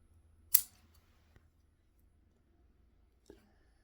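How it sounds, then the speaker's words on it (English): Pruning scissors snip stubs off a zelkova bonsai: one sharp close cut, a faint tick, then a second softer snip, with near silence between and no talking. "there's a few little old stubs back here we're just going to snip off."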